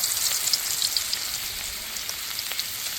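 Sliced onions frying in oil for Bengali ilish biryani, a bright, crackling sizzle with scattered pops, close and steady throughout, with no talk.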